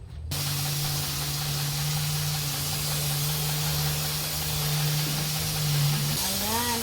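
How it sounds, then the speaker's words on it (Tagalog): Disinfectant sprayer misting a backyard pig pen, a continuous loud hiss over a steady engine drone that runs throughout, with a brief pitch change near the end. "mag-spray din tayo dito"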